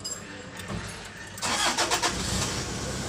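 A Toyota Land Cruiser Prado engine cranks and catches, quiet mechanical rattling giving way to a louder burst of the starter and engine firing up, then settling into a steady run nearby.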